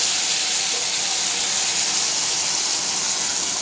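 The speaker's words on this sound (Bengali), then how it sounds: "দেখো দেখো কি সুন্দরভাবে ফুটছে।" Loud, steady hissing and bubbling from a mustard-oil fish curry with pabda fish simmering in a pan on high heat, close by and unbroken throughout.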